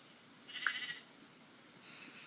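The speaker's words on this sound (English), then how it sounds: "I hear you, sheep." A single short Minecraft sheep bleat, faint and somewhat distant, against a quiet low background hum.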